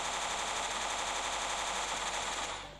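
A Dual Gatling gun fires nonstop in the mobile shooter CF Mobile, a dense rapid rattle of shots that runs loud and unbroken before tapering off at the end, with no voices.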